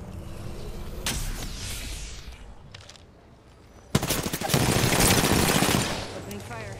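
Gunfire in the Apex Legends video game, with a short burst followed by a louder, sustained stretch of rapid automatic fire layered over game sounds and faint voices.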